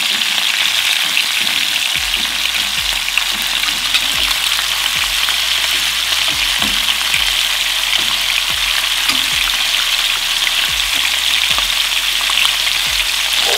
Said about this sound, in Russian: И начинаем жарить.